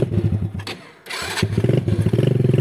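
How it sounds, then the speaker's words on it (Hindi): An ATV quad bike engine turns on its self-starter, cranks briefly, fires, then settles into a close, loud, chugging idle with a steady pulsing rhythm. "यहाँ से मैं मारता हूँ इसका सेल्फ स्टार्ट, आप फिर इसकी आवाज़ सुनिएगा।"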